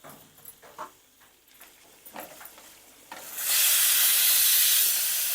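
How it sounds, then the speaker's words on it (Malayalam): Onions and green chillies hitting hot oil in a pan for pork roast: a few light stirring knocks, then a loud, sudden burst of hissing sizzle that holds steady, close, with no voices. "ഇനിയിപ്പം നമുക്ക് സവാള ചേർക്കാം. അതിൻ്റെ ഒപ്പം പച്ചമുളക് കൂടെ നമുക്ക് ചേർക്കാം."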